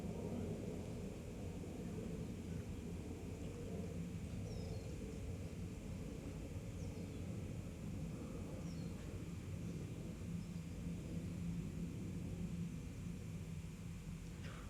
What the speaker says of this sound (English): We'll wait for the aeroplane to go by.